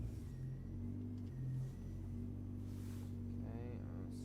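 Woolman 2.5L G30-770 engine with repaired fuel rails, running on a connected ECU, holding a low steady mechanical drone with shifting tones and a brief rev near the end, with some faint talk in the background.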